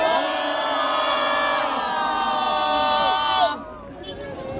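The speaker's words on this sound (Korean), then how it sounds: "크게 함성 외칩시다." A crowd at an outdoor political rally on the Gyeongui Line Forest Path in Seoul cheers and shouts together in a loud, sustained roar, then drops off abruptly near the end.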